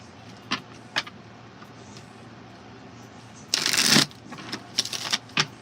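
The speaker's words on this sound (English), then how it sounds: "Let me shuffle that one more time." Tarot cards riffle in a loud burst of rapid flapping and ruffling, followed by a few quick card snaps, after some faint taps; nobody talks.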